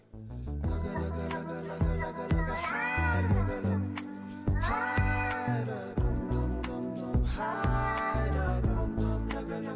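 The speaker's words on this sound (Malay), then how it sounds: "Ini lagu kucing, lagu kegemaran cikgu." A children's cat song plays with steady music and sung melody, punctuated by repeated drawn-out meows that rise and fall over the beat, loud and continuous throughout.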